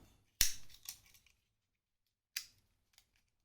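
A small pair of scissors from an Assassin's Creed 4-in-1 multi-tool snipping: one sharp close snip, a softer follow-up, then another distinct cut a couple of seconds later, all quiet and isolated.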